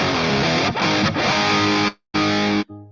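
Heavily distorted chords from a 1961 Gibson SG Standard electric guitar in drop D ring out loud and sustained, with a brief cut to silence before a final strummed chord and quick stop.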